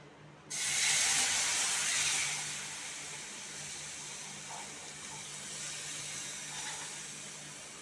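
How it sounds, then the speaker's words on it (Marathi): Water is poured into roasted semolina in a pan over low heat for upma, giving a sudden loud hissing sizzle that peaks early and then settles into a steady bubbling hiss. "आता आपण त्याच्यात पाणी टाकू, गॅस स्लोच राहू द्यायचं।"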